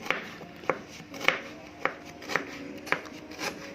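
A knife thinly slices lemongrass on a cutting board, making about seven crisp, close cuts at a steady, even rhythm with quiet gaps between strokes.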